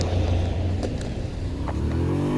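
A 125cc motorcycle pulls away from an Aldi store car park with a steady low engine drone and light road and wind noise. It is close and continuous, with no talking.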